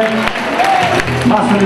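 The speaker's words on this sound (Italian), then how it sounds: "Ragazzi, un applauso a Fran, grazie." An audience at a music contest night applauds a percussionist, steady clapping heard while a voice speaks over it.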